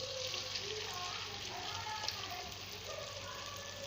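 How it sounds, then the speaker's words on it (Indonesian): Batter-coated banana fritters frying in hot oil, a steady, fairly faint hiss and crackle of bubbling with no break, alongside light background noise. "goreng satu persatu pisang crispy-nya"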